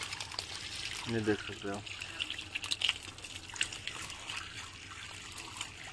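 Water trickling and dripping in a steady thin stream, fairly faint, with someone speaking briefly over it.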